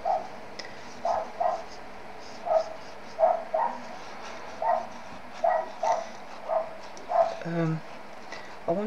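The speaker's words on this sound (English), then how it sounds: "neighbour's dog." A neighbour's dog barks repeatedly at a distance, single and paired barks spaced every second or so against steady background hum.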